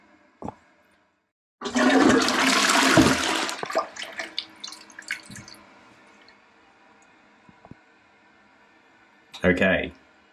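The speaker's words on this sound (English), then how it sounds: "So it's done a flush." A Porcher toilet in an Australian bathroom flushes loudly with a rushing gush of water lasting about two seconds, then trails off into drips and trickling as the cistern refills, with a short second burst of water near the end.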